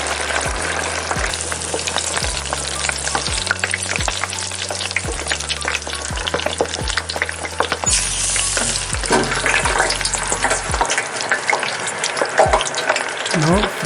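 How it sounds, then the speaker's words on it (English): French fries deep frying in oil at 350 Fahrenheit give a steady, close, loud crackling sizzle throughout, with rhythmic low background music underneath and no voices. "Now I have taken French fry and I am going to deep fry at 350 Fahrenheit"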